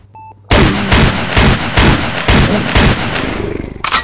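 Rapid shotgun blasts in the Pixel Gun zombie video game, a series of loud punchy booms about every half second, close and dominant, trailing into quicker smaller shots at the end.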